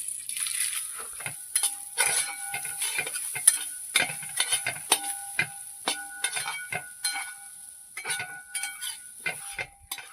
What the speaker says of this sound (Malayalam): ചെറിയ തീയിൽ വേണം കേട്ടോ ഇത് വറുത്തെടുക്കാനായിട്ട്, അല്ലെങ്കിൽ ഉരുളിയുടെ അടിയിൽ പിടിക്കും, കരിഞ്ഞു പോകും.